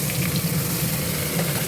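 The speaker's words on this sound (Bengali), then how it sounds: "এটা দিয়ে এখন একটু ভালো করে মানে শাকটাকে ভেজে নিতে হবে" Pumpkin greens fry in a pan with a constant, close sizzle and crackle, steady throughout and with no voices over it.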